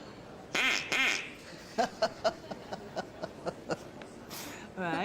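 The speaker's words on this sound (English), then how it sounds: "If you do it twice, it goes quack, quack." Two loud, bright quacking blasts from a hand-blown duck call, then softer clicks and squeaks, with a person chuckling and talking in between.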